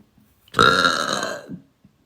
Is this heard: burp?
yes